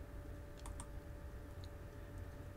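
Computer mouse clicks on the Vivaldi web browser's settings on a PC: two or three soft, quick clicks, close and faint over a steady background hum, with no talking.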